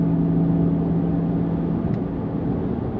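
A Smart #3 Brabus drives under light acceleration, giving a steady, even cabin hum and whir with no voices.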